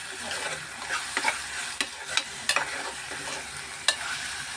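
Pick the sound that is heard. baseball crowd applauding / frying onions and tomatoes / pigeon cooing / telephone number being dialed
frying onions and tomatoes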